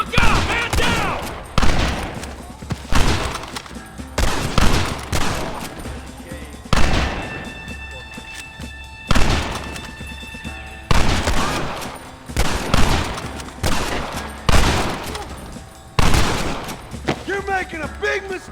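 Repeated heavy gunfire from a Red Dead Redemption shootout, sharp loud volleys every second or two with echoing decays, close and forceful, with shouting voices in places.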